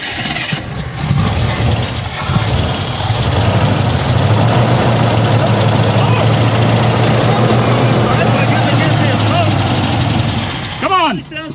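A 1967 AMC barn-find engine restarted after sitting 14 years, running with a steady rough low rumble close by and loud throughout, with people talking over it near the end.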